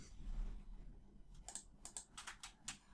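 A computer keyboard being typed on during a C# application build, with a quick cluster of sharp, close key clicks in the second half over a quiet background and no speech.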